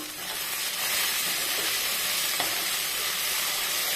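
Okra (bendakaya) frying in a pan while being stirred, giving a steady, dense sizzle with soft scraping from the stirring and one small clink partway through, with no voices.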